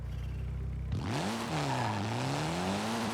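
Mitsubishi Evo time attack car in Forza Horizon 5, its engine dropping from a steady idle into a loud, rising and wavering rev with a strong tonal drone, close and with no talking.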